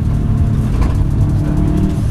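A 385-horsepower Subaru Group A rally car rumbles loudly from inside the cabin, its engine a steady close drone that shifts slightly as it brakes and eases off, with no speech.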